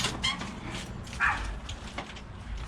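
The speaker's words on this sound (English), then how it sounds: "The dog is going crazy." Excited dogs greeting people at a front door after the doorbell, giving short close barks, yips and whimpers in quick uneven bursts over a quiet room.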